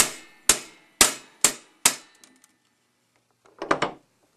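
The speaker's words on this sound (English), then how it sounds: "just tap it with a hammer." Five sharp metallic hammer taps on a retainer ring holding a rod in a Better Pack BP333 heater, evenly spaced and loud, followed by a brief softer rattle as the ring comes loose.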